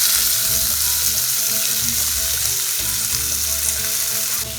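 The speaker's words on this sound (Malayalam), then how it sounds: "ഉള്ളിയുണ്ട്, ഇഞ്ചി, പച്ചമുളക്, വെളുത്തുള്ളി ചതച്ചതുണ്ട്. ആ എണ്ണയിൽ തന്നെയാണ് നമ്മൾ വറ്റിയെടുക്കുന്നത്." Onion, ginger, green chili and crushed garlic frying in oil for a prawn snack, giving a loud, steady sizzle up close. Occasional scraping stir sounds run through it, and there is no talk.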